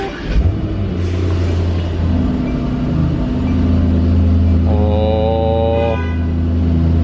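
A 2018 Mercedes-AMG E63 S starts up and settles into a loud, steady low rumble that stays close and continuous, with a brief higher tonal chirp partway through and no talking.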